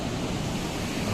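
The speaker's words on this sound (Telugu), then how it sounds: "చూడండి ఫ్రెండ్స్, నీళ్ళు ఎలా పోతున్నాయో" Water surges through the gates of the Somasila dam in a dense, steady roar that fills the whole short moment without any break.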